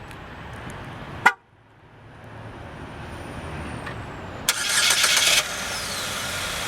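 A 2012 Buick Verano starts up at a dealership: a sharp click, then a quieter pause and a loud crank-and-catch burst, then the engine settles into a steady, smooth idle.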